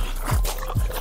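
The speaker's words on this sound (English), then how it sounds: "This is a 20 pound dog right here" A small shorty bull dog of about 20 to 22 pounds gives two brief low whimpers close by, one early and one late, over a steady background hum.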